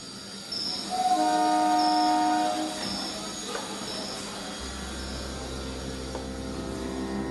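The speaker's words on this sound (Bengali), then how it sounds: "দিনের প্রথম ট্রেনটা স্টেশন ত্যাগ করে হুইসেল দিয়ে" A train horn sounds for about two seconds as the day's first train leaves the station, then it rumbles away with faint wheel squeals and a low steady drone.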